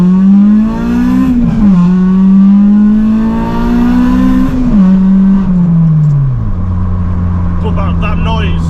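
A caged Honda Civic EP3 is heard from the driver's seat while driving. The engine's loud buzzing drone climbs in pitch, drops back at a gear change, climbs again, then settles lower. A voice talks over it at times.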